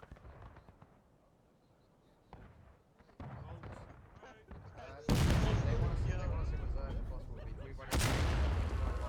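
Musket and cannon fire echoes across a large battle in the Civil War video game War of Rights on Bolivar Heights, starting as faint distant pops, then building into loud, booming volleys with talk over it.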